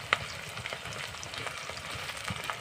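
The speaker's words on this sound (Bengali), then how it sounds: "এখানে দেখো পেঁয়াজটা বেরেস্তা করছি এটাকে" Sliced onions frying in hot oil until golden for a chicken curry, giving a steady close sizzle with soft crackles and a brief sharper pop near the start, no voices.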